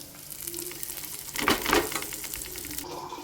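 Prawns sizzle in a hot pan for a crispy fry, a soft constant crackle broken by a short cluster of sharp clinks and scrapes as pieces are moved.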